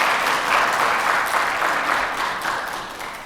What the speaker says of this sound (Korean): 우리 아이들 위해서 다시 한번 뜨거운 격려의 박수 부탁드리겠습니다